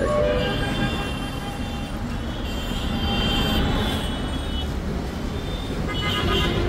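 A train rumbling past close by a railway footbridge as passengers board, with steady rolling noise and faint squealing wheels, a few voices murmuring underneath.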